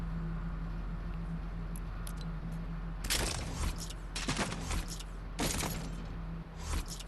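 A shotgun fires in Fortnite Creative, with several sharp, loud blasts in irregular succession over a constant low background hum.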